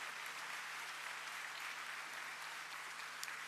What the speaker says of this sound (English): Let's put our hands together and give all of them a well-deserved round of applause.